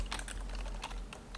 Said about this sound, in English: I'm gonna go type a little bit of code down.